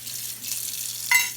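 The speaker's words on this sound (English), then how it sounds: "So, drain the corn." Liquid from canned corn pours into a kitchen sink in a brief soft splashing stream, close and fairly quiet, with a slight rise at the end.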